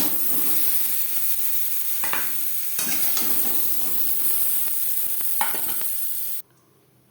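Potatoes fry in hot oil with a steady, loud, close sizzle that fills the clip, broken by a few clatters of a stirring utensil, then cuts off abruptly near the end.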